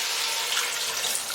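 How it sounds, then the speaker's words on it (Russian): Water poured from a tap or kettle over cubed potatoes and chicken in a pot for borscht, a steady close hissing splash lasting the whole moment with no talk. "Заливаю все это водой."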